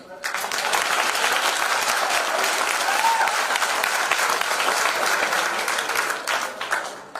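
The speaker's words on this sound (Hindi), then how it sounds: "आप लोगों ने ताली तो बजाई, उसका स्वागत तो किया" Dense applause from an audience at a DBS agriculture products training session, a steady, loud clatter of many hands that lasts about seven seconds before tapering off at the end.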